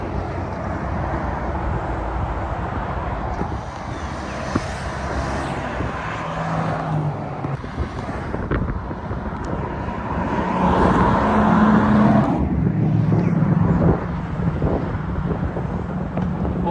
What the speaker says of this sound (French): Oh la Sagaris, j'adore.